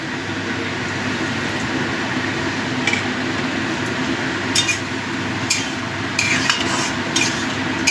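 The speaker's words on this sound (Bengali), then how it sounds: "আবারও ভালো করে মিশিয়ে দিলাম" Spoon stirring koi fish curry masala with bean seeds in a pan, soft scraping with occasional sharper metallic taps against a steady background hiss, no talking.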